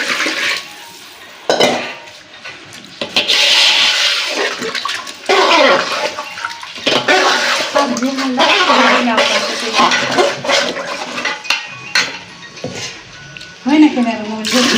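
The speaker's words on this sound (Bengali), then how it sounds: "এবার আমি পানি দিয়ে দেব।" Water is poured into a pot of fried rice for biryani at a village picnic, a steady splashing gush with clinks of utensils, under lively, overlapping conversation nearby.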